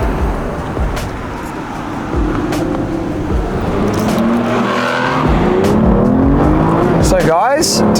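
A 2010 Aston Martin V12 Vantage manual's V12 engine revs and rises in pitch through the gears, with a quick downshift blip at the end, loud and close over steady road noise.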